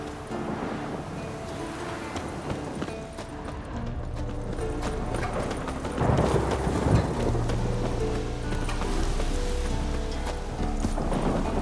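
Hooves of Scorpion, a purebred warhorse in The Witcher, clip-clop at a steady walking pace amid wind and outdoor ambience, swelling slightly louder midway.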